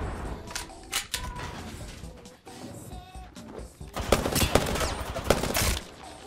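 Prowler gunfire in an Apex Legends match: quick bursts of sharp shots, sparse at first and then a dense rapid volley near the end, loud and close, with game effects between bursts.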